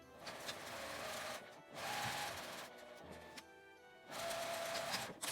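A sewing machine stitches the seam of a lined flat pouch with a zipper, running in three bursts of rapid close whirring separated by short pauses.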